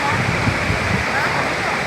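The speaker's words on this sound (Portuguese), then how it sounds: "eu tô na cachoeira" Loud, steady roar of a waterfall at Ribeirão do Itu, a dense continuous rush of falling water heard up close with no breaks.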